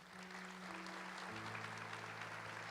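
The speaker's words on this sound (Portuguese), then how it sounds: "Vamos aplaudi-la aqui, ó." A congregation at a Catholic Mass claps in steady, continuous applause that sounds somewhat distant and washed, with a low sustained organ-like tone underneath.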